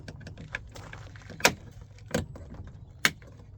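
Plastic number plate light covers pressed into the boot handle of an Audi TT mk3, giving three sharp, close clicks spaced about a second apart over faint background noise.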